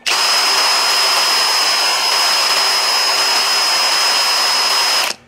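Dongcheng DCJZ03-13EM cordless hammer drill spinning freely at speed setting 2, a loud steady high-pitched whine starting and stopping abruptly, alone.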